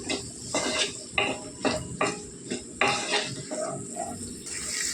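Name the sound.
onions frying and being stirred in a pan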